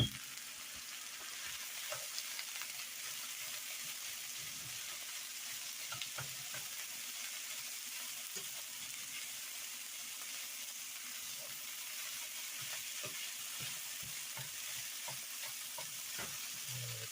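Meat sizzles steadily in a hot pan while it is stirred, with a continuous close frying hiss broken by soft scraping and clicking stirs throughout, and no talking.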